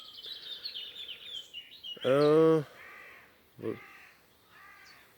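Outdoors a crow caws loudly once in a harsh, raspy burst, with fainter bird calls and chirps before and after and someone speaking briefly.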